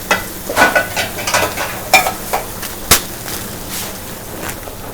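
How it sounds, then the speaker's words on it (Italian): Spaghetti is stirred through sizzling tomato sauce in a frying pan for spaghetti all'assassina, with close scraping strokes and sharp crackles over a steady frying hiss, a few louder pops standing out. "Adesso mettiamo gli spaghetti nell'acqua."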